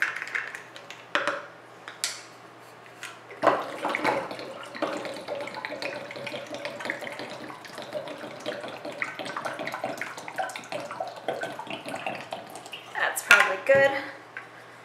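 Water poured into a lemon mixture splashes and trickles in bursts, with clinks of a container and stirring, moderately close, the pouring strongest near the start and again toward the end.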